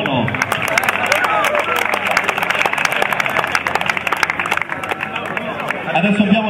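A crowd at a futsal team presentation gives a steady, dense round of applause for a player. The clapping goes on for several seconds, with chatter mixed in.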